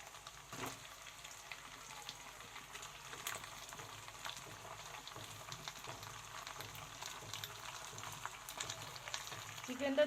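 Chicken hits a pan of deeply browned onions while cooking chicken kosha, giving a soft, steady, fairly faint sizzle and crackle that builds slightly toward the end.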